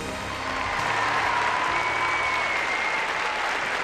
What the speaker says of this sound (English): how about another round of applause for all of tonight's fabulous